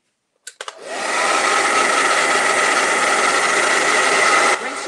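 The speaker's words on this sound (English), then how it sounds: "let's get a little blow dry" Hair dryer switched on with a few clicks, then a steady, loud, close blowing roar that holds for several seconds before dropping slightly near the end, used while painting cherry blossoms.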